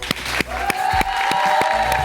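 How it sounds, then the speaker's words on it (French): A crowd bursts into applause over a sustained musical tone, with a few louder claps standing out close by. "on peut les applaudir"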